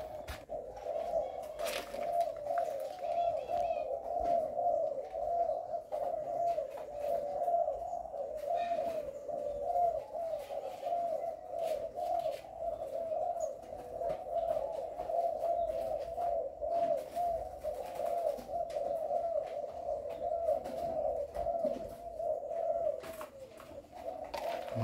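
A spotted dove coos continuously in a rhythmic run of low, soft repeated calls, moderately close, with faint background noise and no talking.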